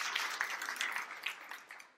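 A church congregation breaks into sustained, dense applause, a steady wash of many hands clapping together for the whole stretch, with no voices standing out above it.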